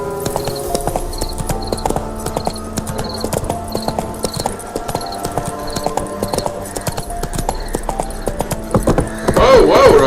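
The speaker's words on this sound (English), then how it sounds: "Whoa, whoa, Roach." Hooves of a horse named Roach clip-clopping at speed in the fantasy game The Witcher 3, with a rapid even beat over game music, a whinny and a voice toward the end.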